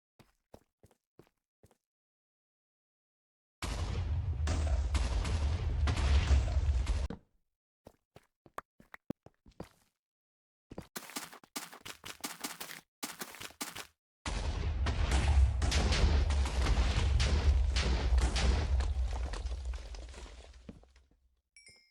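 Rock-blasting TNT explosions in Minecraft, a long rumbling roar that fades, then a burst of sharp crackling debris, then another long, loud, sustained roar of blasting, with no talking.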